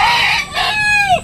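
A Filipino native rooster crows once up close, a loud drawn-out call with a rising start and a long falling tail, alone with no talk.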